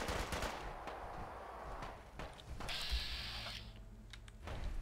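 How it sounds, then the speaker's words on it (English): Minigun fire in Fallout 4 comes as rapid mechanical rattling bursts with metallic clanks and a brief whirring spin, fairly close and moderately loud, with no voices. "he's got a minigun"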